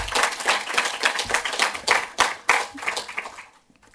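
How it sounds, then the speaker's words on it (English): Audience applause after a short lecture on Armando Bó at a film event, brisk close clapping from a modest crowd with uneven individual claps that thins out and stops near the end. "we need to applaud Gary"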